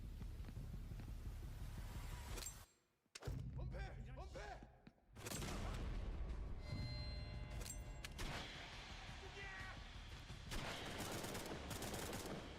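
Gunfire in the in-development video game Mudang Two Hearts, with several loud bursts of shots and sharp impacts over a dense game soundscape and background music, with a short near-silent gap partway through.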